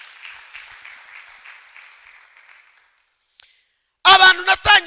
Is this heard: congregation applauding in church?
yes